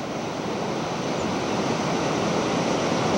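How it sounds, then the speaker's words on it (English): A river rushing through a gorge in Nepal below a bridge, a loud, steady broadband roar of churning water, close and constant with no voices. "here comes the river through the gorge"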